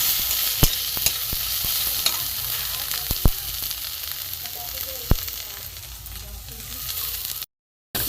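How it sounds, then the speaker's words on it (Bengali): Grated bitter gourd sizzling in oil in a pan, a steady frying hiss with scattered sharp clicks of a spatula stirring, continuous and close, ending in a short silence. "একটু ভাজা হোক উচ্ছেটা"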